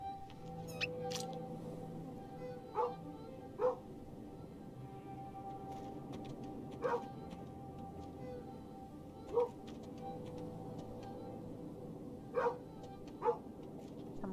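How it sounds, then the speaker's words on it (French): A dog barks in the video game Kingdom Two Crowns Shogun. Short, faint barks come sporadically, roughly eight in all, some in quick pairs, over a quiet ambient game backdrop. "Mon chien aboie sur la droite, c'est qu'ils sont sortis les monstres."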